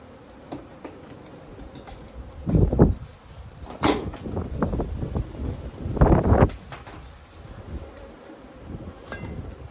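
Honey bees hum softly around a hive as its heavy wooden lid comes off. Wind rumbles against the microphone, and a few louder knocks and scrapes of handling break in.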